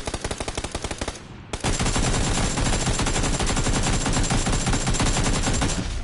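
Rapid automatic machine gun fire in a video game, loud close bursts of evenly spaced shots, a brief pause, then a long unbroken stream of fire.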